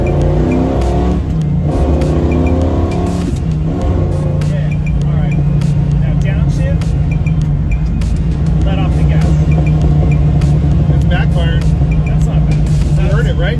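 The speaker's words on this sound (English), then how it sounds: "I want you to downshift kind of hard, and I want you to let off the gas as you decelerate" A 1967 Camaro with a Muncie shifter grumbles loudly and steadily through a hard downshift and deceleration, its low engine burble continuous throughout, with people talking over it.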